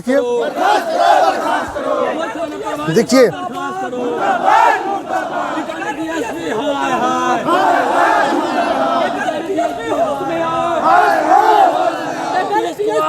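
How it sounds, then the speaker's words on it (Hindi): A large protest crowd at a march outside a police station chants slogans loudly in unison, rhythmic shouted calls rising and falling over the whole stretch, with someone speaking briefly near the start. "देखिए खास भीड़ लगा हुआ है"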